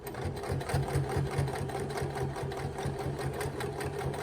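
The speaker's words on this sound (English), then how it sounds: "I'm going to backstitch and just start going" A sewing machine stitches through a quilt, running with a steady rapid mechanical chatter close by, its rhythmic clatter continuous throughout with no talking.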